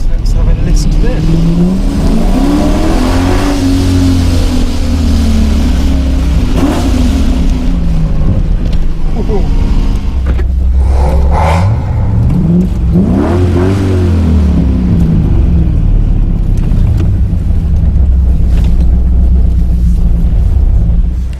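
Cars rev and rumble through the Goodwood Tunnel beneath the home straight, loud engine drones rising and falling in several surges that echo in the enclosed space, with voices talking over them.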